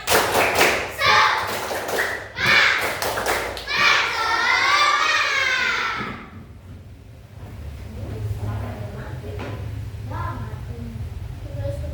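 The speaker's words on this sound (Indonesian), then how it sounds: "coba kita tepuk dulu biar semangat ya. Tepuk semangat." Schoolchildren in a classroom clap a rhythmic chant, with sharp repeated claps mixed with shouted young voices, then a sustained group cry, followed by quieter room chatter.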